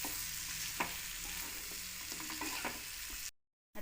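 Drumstick (moringa pod) dry stir-fry with crushed peanuts being stirred in a pan: steady close sizzle with scattered spoon scrapes and clinks, running alone until it cuts to silence near the end.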